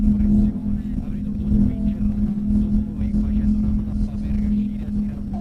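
Yamaha R1M motorcycle with a one-off custom exhaust, a steady loud low engine drone that rises and dips slightly, with a voice talking over it.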